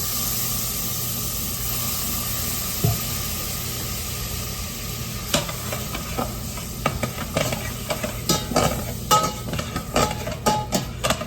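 Half a stick of butter with minced garlic browns in a pan, a steady close sizzle broken by scattered crackles and clinks that grow busier toward the end, with no talking.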